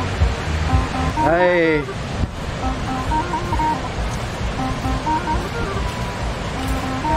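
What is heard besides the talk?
Ban Gioc waterfall rushing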